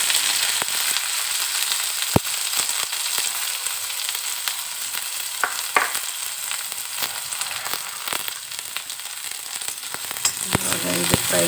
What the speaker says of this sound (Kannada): ಸಾಸಿವೆ ಅದು ಸೌಂಡ್ ಚಿಟ್ಚಿಟ ಅಂತ ಬಂದಮೇಲೆ